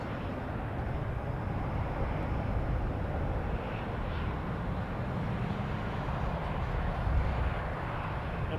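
Embraer 195 E2 airliner departing Toronto Pearson airport, a steady, broad roar of jet engines heard from a distance, continuous and moderately loud with no pauses.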